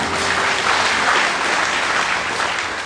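A church congregation applauds during a worship service, a thick, steady roar of clapping that holds loud and even for a few seconds.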